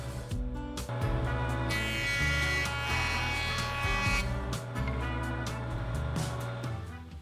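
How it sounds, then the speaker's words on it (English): Jointer planing a wooden board to remove bandsaw blade marks, a loud steady mechanical buzz and whir with the cutter head biting through the pass, continuous and close without talk. "I'm using the jointer to remove the blade marks from the bandsaw and clean up the cut."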